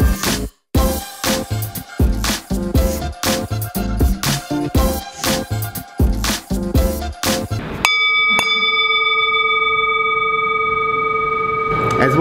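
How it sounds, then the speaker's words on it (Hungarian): An electronic school bell rings in a coding school classroom, a loud sustained multi-tone ring lasting several seconds, following a stretch of close talking. "Ez volt a csengő. Itt csengetnek be a kódpoolban."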